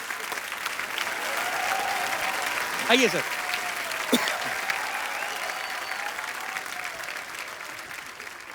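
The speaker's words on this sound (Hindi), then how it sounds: "एक बार जोरदार तालियां बच्चा के लिए, जोरदार तालियां सुशील कुमार के लिए" A studio audience at a comedy show claps loudly and continuously in a dense wash, with a short spoken welcome and a few whoops rising over the applause.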